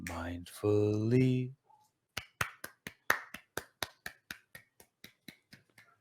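A round of applause imitated by a string of sharp, evenly spaced claps or snaps, about fifteen crisp hits following a brief burst of sung or spoken voice.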